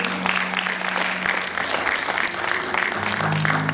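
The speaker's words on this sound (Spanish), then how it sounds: "¿Cuántos aplauden a Dios en esta noche?" A church congregation applauding during an evening sermon, loud dense clapping sustained for the whole few seconds, close and continuous with no speech over it.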